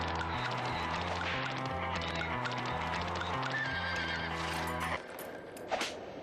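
A horse whinnies loudly near the end of a TV commercial, rising above a steady bed of rhythmic music and clip-clopping hooves that carries through most of the spot.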